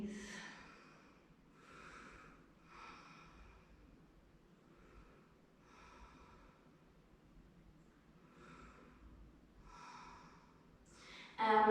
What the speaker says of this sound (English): And breathe.